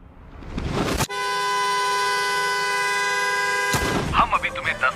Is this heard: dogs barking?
no